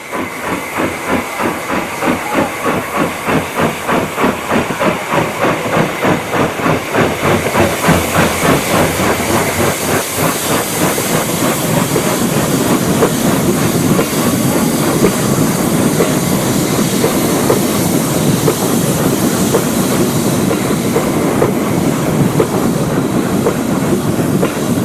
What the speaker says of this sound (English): The same loco appears just after the station halt as it heads up the grade towards the steep Cwndulais Valley and Graig Merthyr.